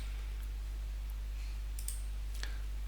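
A computer mouse clicks the Add button while NFS storage is configured on a Proxmox VE cluster, a few faint, sharp, brief clicks over a steady low electrical hum with no talking.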